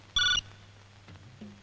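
A telephone rings once with a short electronic trill, sharp and close, followed by low room hum and faint shuffling in a Hindi-dubbed South Indian film scene.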